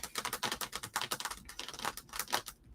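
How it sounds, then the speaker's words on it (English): Rapid typing on a keyboard or typewriter in a classroom, a dense, steady patter of sharp clacks heard alone and fairly close, with no talk. "I thought the young lady was typing."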